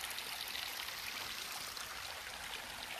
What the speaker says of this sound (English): It's very relaxing just to come by and sit and listen to the creek